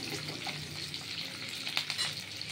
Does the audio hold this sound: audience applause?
no